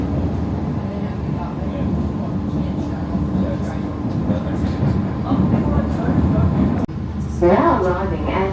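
A Melbourne country train runs along the rails at a city station approach, a steady rolling rumble close by, with people talking over it.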